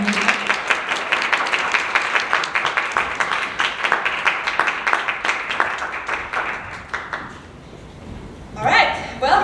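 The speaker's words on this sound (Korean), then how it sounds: "큰 박수로 맞이해주시면 됩니다" An audience at a biodiversity youth forum claps to welcome a guest to the stage, a sustained round of applause that fades out, followed by a brief voice at the end.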